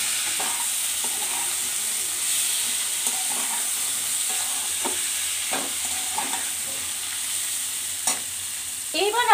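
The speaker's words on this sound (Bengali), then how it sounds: "দিয়ে ভালো করে নেড়ে চেড়ে মিশিয়ে নেব।" Potatoes and fenugreek leaves frying in a pan with cumin powder stirred in: a steady close sizzle with repeated scraping strokes of a spoon against the pan, rhythmic and unbroken, no voices.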